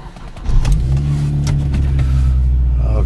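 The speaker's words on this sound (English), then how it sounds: "Okay, engine sound is good." A 2002 Hyundai Tuscani with a manual gearbox and a 2000cc four-cylinder engine cranks, catches and settles into a loud, close, steady idle with a brief rev at startup.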